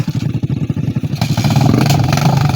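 Motorcycles hauling sacks of harvested rice: an engine rumbles nearby, its low throbbing putter turning into a steadier, louder drone as it revs.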